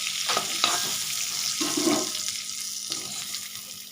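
Soybean chunks lightly fried in oil are lifted out of the pan with a spoon, giving a brief sizzle and a few scraping, stirring knocks against the metal, close and moderately loud, no voices.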